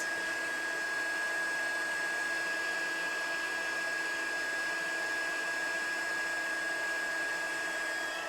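A heat embossing tool blows hot air over embossing powder on card stock, a steady whirring hiss with a faint high whine that holds at an even level for the whole stretch, close by and alone.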